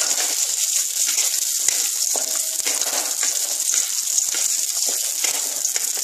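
Cashews and raisins frying in a hot pan, giving a close, continuous hissing sizzle with light crackles throughout.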